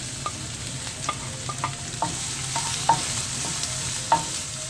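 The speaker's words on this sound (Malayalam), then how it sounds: "ഇനി നമുക്കിതിനകത്തോട്ട് സവാള ഇട്ട് കൊടുക്കാം." Sliced onions sizzle in hot oil with curry leaves and green chillies while being stirred for masala bonda filling, a steady close hiss punctuated by regular scraping taps of the spoon on the pan, no voices.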